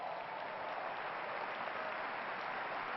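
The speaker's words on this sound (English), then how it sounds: "Give yourselves a round of applause." A seminar audience at a business talk gives itself a round of applause, continuous even clapping from a roomful of people, moderately distant and steady for the whole moment.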